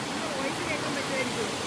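Water plunges from a great height at a waterfall, making a continuous broadband roar close at hand, with a faint voice barely present beneath it.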